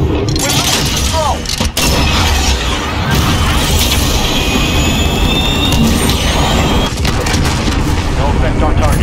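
A close air support airstrike in Call of Duty: Modern Warfare, heard during a Team Deathmatch match: a continuous, loud wall of jet roar and heavy booming explosions that fills the whole stretch, with indistinct voices buried in the din.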